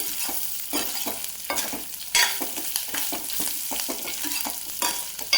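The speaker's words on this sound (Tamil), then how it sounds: "தேங்காய் சும்மா லைட்டாக வதக்கினா போதுங்க." Grated coconut lightly sautéing in a pan for ginger chutney, a steady close sizzle broken by frequent quick stirring scrapes, with one louder burst partway through and no speech.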